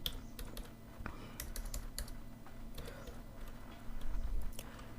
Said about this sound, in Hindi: इसके बाद मैंने टाइप किया वी लुकअप